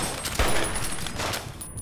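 Rapid bursts of gunfire crackle continuously, dense and loud, like an automatic weapon firing in Fallout: New Vegas.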